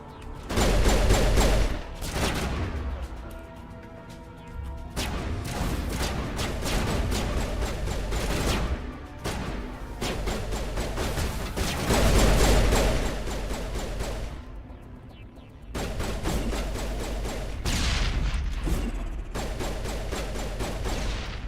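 Dense, sustained bursts of rapid gunfire and explosions fill a Mass Effect firefight, loud and nearly continuous with brief lulls between volleys.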